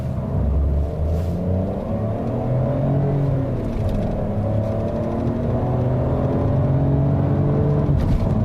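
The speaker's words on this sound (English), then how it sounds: "Let's just show you the performance of this small petrol engine first." A small three-cylinder petrol engine in a 2020 Peugeot 308 GT Pack accelerates in sports mode, a steady loud rumble and whir rising through the gears as heard from inside the car, with no talking.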